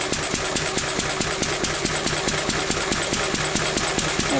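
A pre-electronic engine idles with a fast, even chugging pulse while its fuel mixture is adjusted, running steady and close, its revs lifting slightly, with a faint high whine above and no talking.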